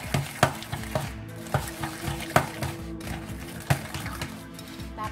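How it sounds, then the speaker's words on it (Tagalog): Butter and sugar being mixed until creamy, with close, rhythmic scraping and knocking strokes of a utensil against the bowl recurring every second or so. "pagsama-samahin lang natin yung ating butter at saka sugar. I-mix na natin hanggang magiging creamy"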